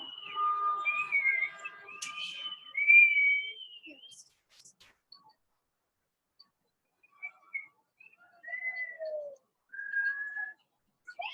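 Several short tuneful whistles come in scattered phrases with long quiet gaps between them, soft and fairly near.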